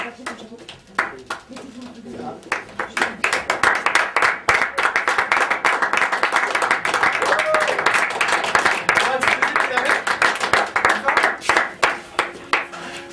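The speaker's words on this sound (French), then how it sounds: "vous pouvez applaudir les impronompables qui vont venir maintenant tout de suite" Audience at an improv comedy show applauds as performers come on, starting with scattered claps that build into loud, steady clapping settling into a pulsing rhythm.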